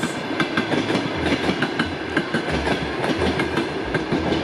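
A train rumbles past close by, with steady rhythmic clickety-clack of wheels over the rails and a continuous heavy roar.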